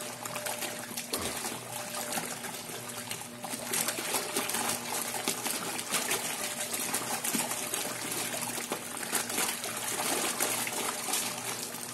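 A Colormaq LCT4.5 tub washing machine runs with a maximum load of colored clothes, giving a continuous churning, sloshing water roar with trickling and splashing, loud and steady throughout.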